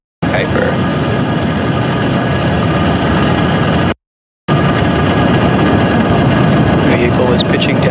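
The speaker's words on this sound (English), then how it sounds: "Ignitions, engines full power, and liftoff." Falcon 9 rocket engines at liftoff on the Amazon Project Kuiper launch, a loud, continuous broadband roar that fills the whole stretch, broken by a brief gap midway, with a voice faintly present.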